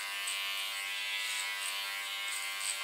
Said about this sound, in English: it's easier to clipper cut hair